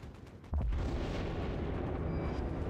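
A single deep, booming warship gun shot fired in a naval combat video game, loud and close, with a long low rumbling tail that fills the rest of the moment.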